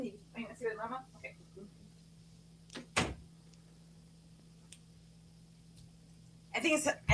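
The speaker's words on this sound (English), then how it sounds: "I'm going to go close the door." A door shuts with one sharp thud in a quiet indoor room, between short stretches of talk and a few faint clicks.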